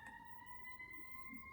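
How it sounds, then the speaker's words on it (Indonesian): Ambulance siren, faint and distant, holds a steady wailing tone under a low background hum, with no speech. "Suara apa nggak tahu, suara ambulan maybe."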